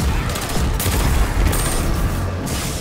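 Pulse rifle fire in the video game Destiny 2 keeps up loud, dense bursts of gunfire that overlap in a continuous barrage with heavy low booms.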